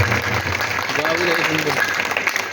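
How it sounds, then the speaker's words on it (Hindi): Audience claps for the instrumentalists at a Ram Katha religious gathering in a village, steady dense applause over the full stretch with a backdrop of music and crowd murmur. "एक ताली इंस्ट्रूमेंट वालों के लिए बजाओ"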